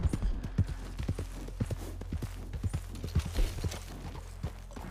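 Hooves of a ridden horse in Red Dead Online clip-clop in a steady rhythmic gait, close and moderately loud over a low rumbling background.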